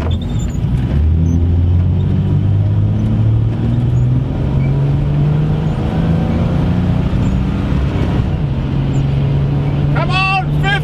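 A stock 1970 Dodge Challenger, about fifty years old, accelerates at full throttle, its engine roaring loud and close as the pitch climbs steadily through the gears with brief drops at shifts; people talk over it near the end.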